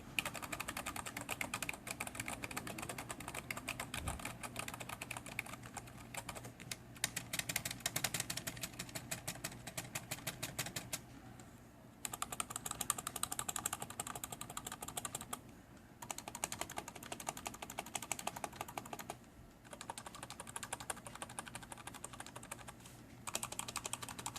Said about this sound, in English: here is the typing sound